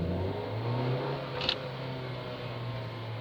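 A car pulling away after a clutch-brake handbrake turn from about 25 mph, a fairly faint engine hum rising steadily with a brief sharp squeak midway, no talking.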